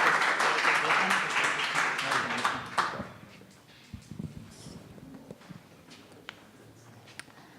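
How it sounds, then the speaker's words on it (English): Audience at a tech talk giving a warm round of applause, loud clapping for about three seconds that fades out, leaving scattered taps and room noise with a few soft voices. "a warm round of applause while he sets his things up"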